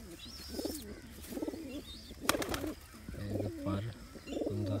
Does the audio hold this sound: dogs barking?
no